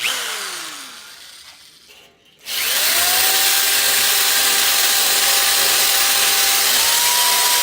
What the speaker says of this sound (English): See what it does with the drill.